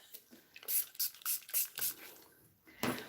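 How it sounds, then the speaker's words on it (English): Several short bursts of a spray bottle misting hair hiss in a row, close to the mic, with a louder final burst after a brief pause. "when I feel like a knot around this area, I'm going to spray it."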